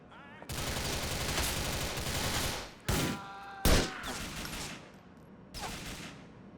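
Sniper rifle fire in GTA 4 during an attack on drug vans: dense, sustained gunfire roars through most of the stretch, with a few sharp, loud single cracks standing out near the middle and toward the end.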